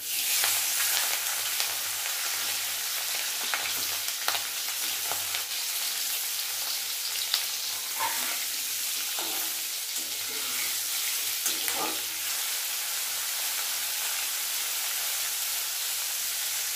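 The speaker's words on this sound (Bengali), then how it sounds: "চিংড়ি মাছগুলো এখন আমি ভাজবো। তেলটা গরম হয়ে গেছে, আমি এখন মাছগুলো দেব।" Prawns frying in hot oil in a pan, a steady broadband sizzle throughout with occasional sharper crackles and clinks, fairly loud and unbroken, with no talking.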